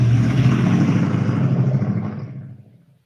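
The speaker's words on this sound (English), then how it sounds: "Big truck." A big truck passes outside, a loud, deep, broad engine rumble that holds steady and then fades away over a few seconds.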